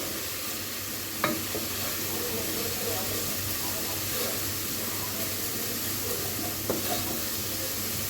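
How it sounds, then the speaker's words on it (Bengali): Steady sizzling of spices frying in a pan for beef tehari, with occasional scraping as they're stirred; a low hum underneath and no talking. "তো সবগুলো মশলা একটু কষিয়ে নিব"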